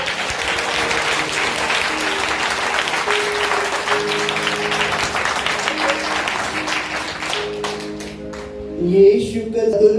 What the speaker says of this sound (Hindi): तालियां बजाएंगे यीशु के लिए।